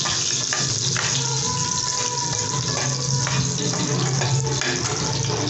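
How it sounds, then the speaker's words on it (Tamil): Mustard seeds and dried red chilies fry in hot oil for a Sri Lankan village-style dish, a steady loud sizzle with crackling pops and a low bubbling hiss throughout. "கடுகு கொஞ்சம் பொரிஞ்சு வந்ததுக்கு பிறகு பட்டை மிளகாய் போட்டுக்கோங்க"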